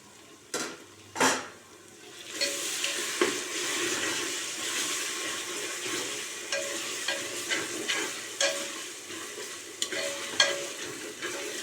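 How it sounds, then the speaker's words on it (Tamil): Mint and coriander leaves sautéing with ginger-garlic paste for chicken biryani: a continuous bright sizzle in the pan, punctuated by regular clicks and scrapes of a spoon stirring, with no voices. "புதினா கொத்தமல்லி சேர்த்து நல்லா வதக்கி விட்டுட்டு"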